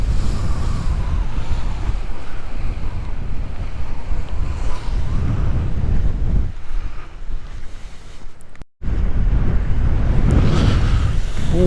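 Rough sea waves and surf pound the shore at Bawdsey, Suffolk, a loud, continuous roar mixed with heavy wind buffeting the microphone, with surging crashes and one brief dropout.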